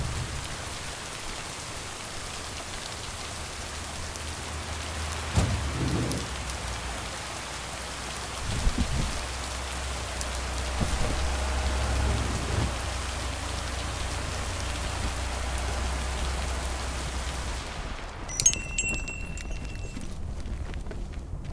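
Steady rain falls in the video game Lake, a continuous hiss of drops with a few soft thuds and knocks in the middle, cutting off near the end into a brief chime.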